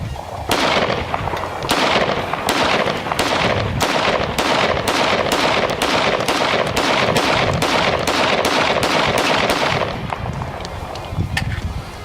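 Ruger 57 and FN 5.7 pistols fired outdoors in the desert, a loud, rapid series of about twenty sharp shots in quick succession over ten seconds, then a brief lull.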